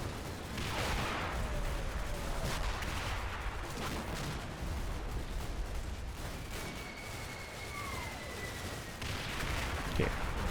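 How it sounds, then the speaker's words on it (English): Mortar shells landing in the Combat Mission: Battle for Normandy video game, thudding bursts and cracks over a steady dense battle background with occasional faint whistles, moderately distant and fairly quiet. "Happy these mortars are coming in."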